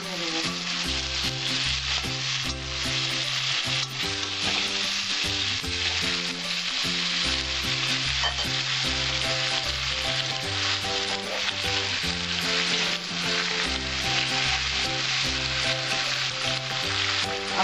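Vegetables fry in a pan for a light Bengali catfish curry, giving a continuous close sizzle with occasional stirring scrapes. Rhythmic background music plays throughout.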